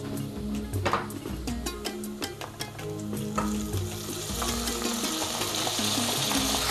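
Onions and mushrooms sizzle loudly in a pan while a utensil scrapes and stirs them in repeated strokes. The frying hiss is close and continuous, with clattering scrapes across it.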